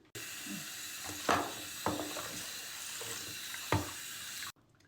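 A waterproof flashlight is dunked into water in a container: splashes and sloshes, with a few distinct plunging splashes over a continuous watery wash, then it cuts off.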